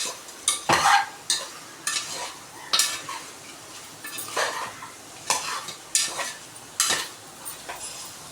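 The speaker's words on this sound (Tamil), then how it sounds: "கரண்டி வச்சு நல்லா கிண்டி விட்டுக்கோங்க" A ladle scrapes and stirs chili and coriander powder through goat head curry in a pan. The strokes are intermittent and metallic, with a soft sizzle underneath, and there is no talking.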